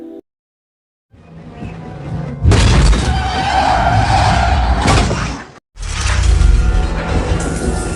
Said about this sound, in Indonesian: mobilnya terserempet mobil lain dan membuatnya terpental